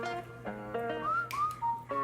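Bright melodic whistling from a song, a few rising and held notes over sustained backing harmonies, clear and fairly close.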